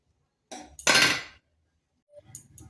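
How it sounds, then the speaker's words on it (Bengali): Cooked red lentils are tipped from a pan into another pot, with a couple of close metallic scrapes and clinks of the pan and utensils against the rim, brief bursts separated by quiet. "নামিয়ে একটা অন্য পাত্রে ঢেলে নিচ্ছি।"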